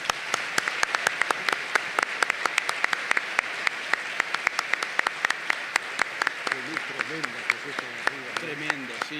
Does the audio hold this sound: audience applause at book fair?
yes